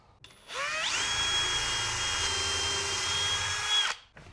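A power drill fitted with a countersink bit whose tip is broken spins up, whines steadily at high speed for about three seconds, then winds down; close and fairly loud.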